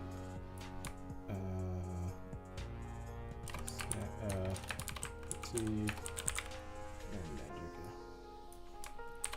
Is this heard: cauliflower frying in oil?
no